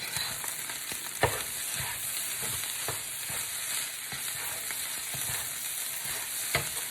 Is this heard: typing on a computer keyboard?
no